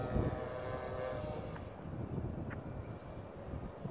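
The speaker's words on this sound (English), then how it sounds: "that was a crazy gust" A strong gust of wind buffets the microphone at an outdoor model glider flying field, a rough low rumble that is loudest at the start and then keeps blustering unevenly.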